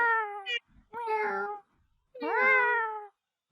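Human voices imitate cats, giving three drawn-out, rising-and-falling meows close to the mic with brief pauses between them, as a group of friends meows together.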